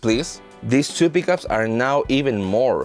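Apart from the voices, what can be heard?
No everyday noises stand out.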